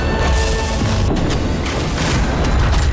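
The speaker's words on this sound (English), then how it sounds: "It explodes in a dazzling burst of light that blinds any nearby vampire caught in its rays." Light bomb blast in the Nosgoth video game, a loud, heavy booming burst with crashing, rumbling texture that fills the whole moment at close range.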